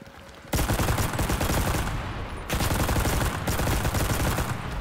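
Sustained heavy gunfire in the World War II shooter Enlisted, loud and dense, rattling continuously for several seconds with a brief dip around the middle before resuming.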